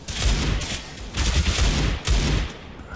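Rapid automatic rifle fire in CS:GO comes in three loud, close bursts separated by brief pauses.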